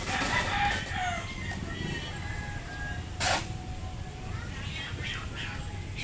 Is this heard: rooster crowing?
yes